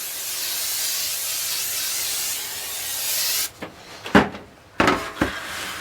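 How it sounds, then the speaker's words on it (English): Cooking spray hisses in one steady burst of about three seconds, coating a 9x13 baking dish, followed by a few light clattering knocks. "Now we're going to spray a 9x13 down."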